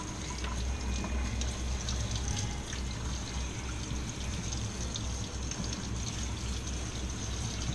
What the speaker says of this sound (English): I'll give them a spritz of cold water